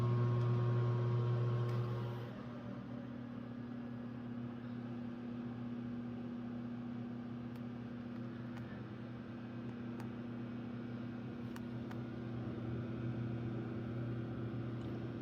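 A microwave oven runs with a steady low electrical hum and fan drone, close and fairly quiet, its tone shifting slightly after a couple of seconds and then holding constant, with a few faint clicks.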